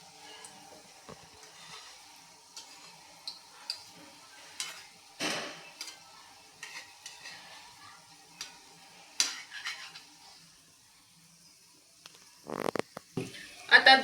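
Wheat-flour gulab jamun frying in oil over a low flame, a soft steady sizzle with scattered crackles and pops, louder bursts near the end as the balls are turned.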